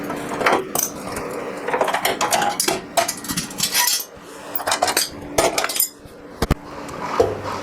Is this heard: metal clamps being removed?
yes